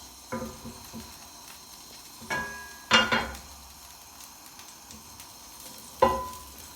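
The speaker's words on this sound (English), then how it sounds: "So basically, you just fry them." Pork gyoza dumplings pan-frying in hot oil give a soft, close sizzle under scattered clinks and scrapes of a utensil against the pan, with a few sharper crackles and knocks.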